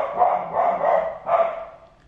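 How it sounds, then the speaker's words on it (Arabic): A dog barks close by, three or four sharp, fairly loud barks in quick succession with no one talking. "واحد الكلب مبرزطني"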